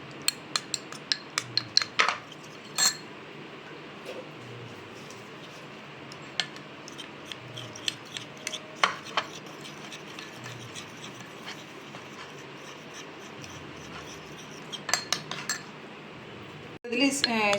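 A metal spoon stirring starch into carrot juice in a small container, giving repeated light clinks and scrapes in irregular bursts, fairly quiet, with no talking.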